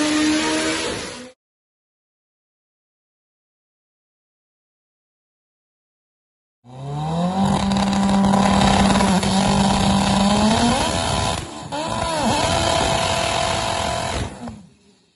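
High-boost Mitsubishi Evo race car engine running at about 60 to 62 psi: a loud roar cuts off abruptly, silence follows, then the engine revs up hard with rising whine and sustained droning power, close and alone.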